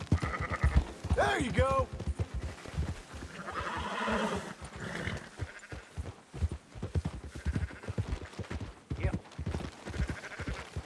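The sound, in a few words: sheep bleating in video game Red Dead Redemption 2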